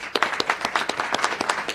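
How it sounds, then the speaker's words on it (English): Audience clapping during a speech by New Jersey's governor, a short burst of dense, loud applause with rapid individual claps, close and energetic. "clap for that."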